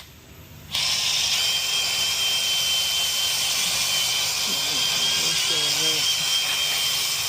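A wire bristle brush spun by a power drill scrubs a wheel hub during a Ford F-150 wheel bearing replacement in an auto repair shop, starting abruptly and holding a loud, steady high whirring grind close by for several seconds.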